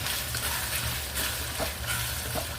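Leftover food fries in oil and butter while being stirred in a pan, giving a loud, continuous sizzle with scraping and shuffling stirs that swell and fade, and no talking.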